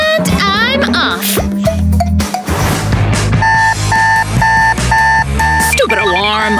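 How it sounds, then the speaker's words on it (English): An alarm clock rings loudly with a repeated electronic beeping pattern amid cartoon-style sound effects and music, with a voice speaking around it. "Stupid alarm!"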